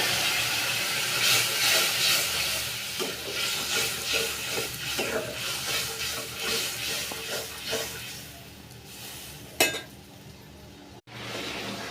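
Fish curry with mango bubbling and sizzling steadily in a pot, a continuous soft hiss with faint stirring clatter, close by and alone, ending with a sharp clink.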